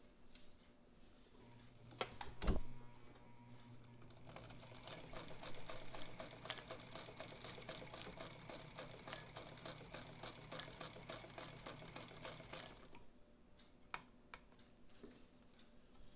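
Necchi BU Mira sewing machine stitching through layers of heavy nylon: a quiet, rapid mechanical chatter running steadily for about eight seconds, bracketed by a sharp knock and a few soft clicks and no talk.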